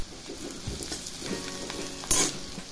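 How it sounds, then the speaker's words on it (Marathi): Onion with asafoetida fries in a pan for a spicy aubergine bharit, a soft, steady sizzle with intermittent scrapes of stirring and one brighter crackling burst near the end, with no speech. "आता कांदा भाजलेला तर त्यामध्ये हिंग टाकायचं आहे."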